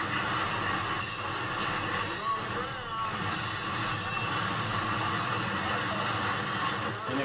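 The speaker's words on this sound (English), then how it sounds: "there's a train going 5 miles an hour" A train creeping along railroad tracks at about five miles an hour, a continuous rumbling roll of wheels on rail with faint squeals and clacks, fairly close and steady throughout.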